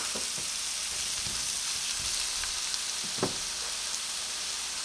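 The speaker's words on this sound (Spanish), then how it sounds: "En este mismo aceite vamos a agregar una cebolla cortada en juliana." Julienned onion fries in oil in a pan that was just used to sear pork fillets, giving a soft, steady sizzle with a few faint stirring taps and no voice.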